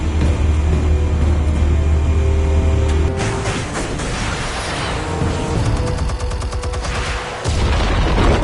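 Explosives detonating in Batman: The Telltale Series, a dense barrage of booms and gunfire-like blasts layered over a low rumble, loud and sustained throughout.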